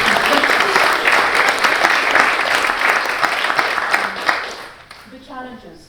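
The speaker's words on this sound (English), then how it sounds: "we'll give that a round of applause" An audience at a social enterprise panel discussion breaks into sustained applause, dense clapping filling most of the clip before tapering off as a voice begins speaking near the end.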